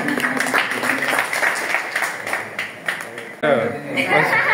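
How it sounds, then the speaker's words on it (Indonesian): Clapping breaks out among participants at an on-the-job training session for teachers, with scattered hand claps mixed with voices and chatter from the room. "Tepuk tangan."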